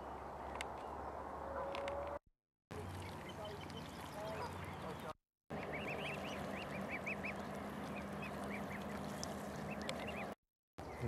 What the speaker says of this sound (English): You can hear all the birds and ducks.